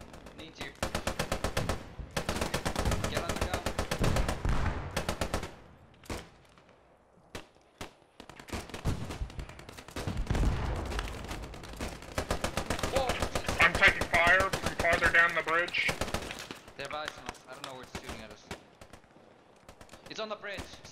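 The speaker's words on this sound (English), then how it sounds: "MG34, I think." MG34 machine gun bursts in a World War II video game battle at Arnhem, dense rapid gunfire and scattered shots filling most of the clip, with players talking over the shooting.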